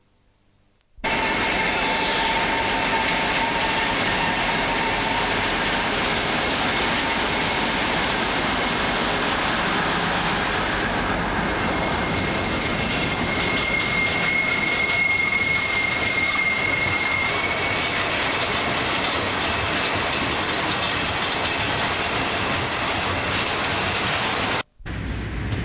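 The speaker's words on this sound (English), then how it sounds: "Now leaving Thrybergh and about to pass under the A630 Doncaster Road." A loaded coal train of 36 fully loaded HAA wagons passes under the A630 Doncaster Road after leaving Thrybergh: a loud, continuous rumble and rattle of wagons rolling by for over twenty seconds, with a thin wheel squeal midway, then abrupt quiet.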